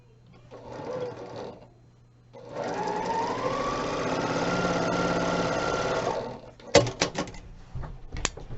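A sewing machine with seam guide tape runs steadily for several seconds while sewing a quilt block, with a brief short burst before it and a few clicks and handling knocks afterward.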